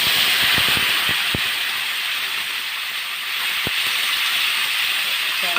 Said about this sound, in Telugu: ఇప్పుడు టమాటాలు పచ్చిమిర్చి వేసేస్తాను